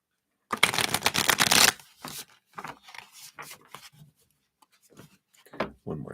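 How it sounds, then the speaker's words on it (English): Tarot cards being shuffled: a brisk riffling burst up close, followed by softer scattered taps and slides of cards. "Let's just shuffle these up."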